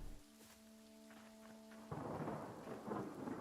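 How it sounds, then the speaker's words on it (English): A Minecraft thunderstorm breaks in as a rolling crash of thunder cuts off a soft tonal background, then gives way to a steady wash of rain. "Thunderstorm."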